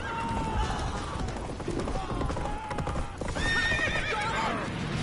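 Roach, Geralt's horse in The Witcher 3, gallops with rapid continuous hoofbeats and lets out loud whinnies near the end, close and busy amid game sound, with talking over it.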